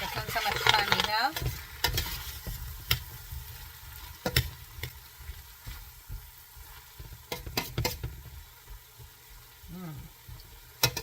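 Onions and minced garlic cook in a pan for kimchi pork, with a soft sizzle and repeated sharp clicks and scrapes of stirring, a burst of sputtering near the start, and no speech.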